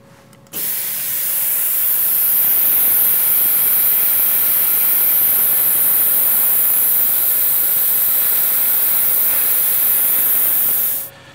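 Coolant sprays onto a CNC spindle setup, a steady loud hiss that runs for about ten seconds and then stops abruptly.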